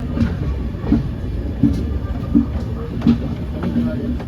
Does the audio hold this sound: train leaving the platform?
yes